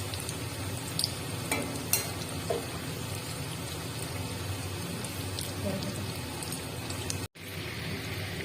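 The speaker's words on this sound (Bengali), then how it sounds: "তেলে ছেড়ে দিলাম। ভেজে নিয়ে চলে আসছি।" Fish chops fry in hot oil with a steady, dense sizzle and crackle that holds at an even level, broken by one brief dropout near the end.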